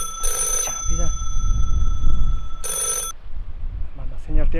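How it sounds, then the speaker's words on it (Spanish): An old-style telephone bell rings in two loud shrill bursts, separated by a pause, with people talking over and between the rings. "el teléfono suena"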